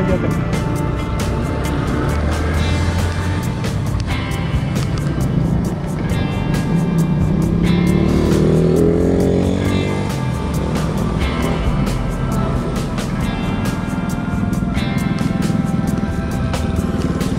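A motorized tricycle passes on a road in Imus, Cavite, during a bike ride, with a loud, continuous engine drone, a rising whine midway and rough wind noise throughout.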